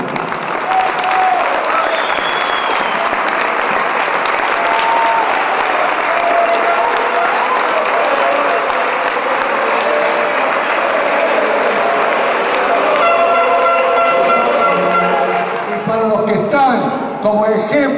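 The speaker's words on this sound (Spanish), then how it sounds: "pido un aplauso para el Loco Lillo." Sustained applause from a seated crowd at an Argentine football club luncheon in Córdoba, dense, loud clapping lasting many seconds before thinning out near the end as voices emerge.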